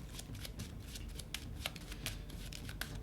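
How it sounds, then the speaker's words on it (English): Playing cards shuffled for a Kingdom Death Monster board game, a soft riffling flutter of several quick bursts close by, alone without talk. "We're shuffle them."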